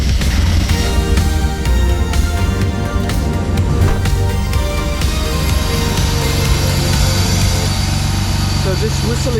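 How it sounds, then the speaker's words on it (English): A Mercedes W124 engine running just after starting, a steady loud drone with a high whistling tone above it and a rhythmic mechanical rumble underneath, continuous throughout. "So this whistling noise is no good."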